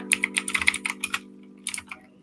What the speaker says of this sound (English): I need to get a different keyboard or something. Sorry, this is so clacky.